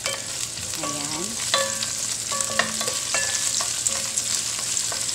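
Onion sautéing in a pan for chicken lemon, a steady crackling sizzle with occasional stirring clinks of a utensil against the pan; a person speaks briefly.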